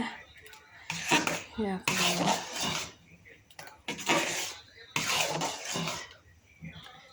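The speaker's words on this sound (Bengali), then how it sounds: "এটা আমি ভালো করে নাড়াচাড়া দিব।" Chickpea halwa being stirred with ghee in a pan, a spoon scraping and knocking against the metal in repeated close, loud bursts with short pauses between them.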